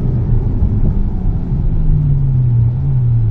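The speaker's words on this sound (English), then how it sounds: "When this car gets moving, it moves and it does not stop." A Ferrari F12 Berlinetta V12 accelerates hard, a loud steady engine drone rising smoothly in pitch for a few seconds, close and unbroken, with no talking.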